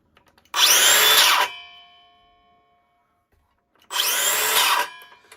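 A repaired Makita DHS680 cordless circular saw, fixed for an intermittent motor fault, whirs up loudly for about a second, winds down with a fading whine, then runs again in a second burst.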